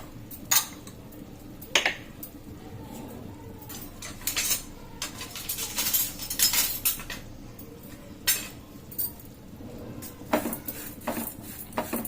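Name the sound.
roasting fenugreek and cumin seeds in a pan, stirring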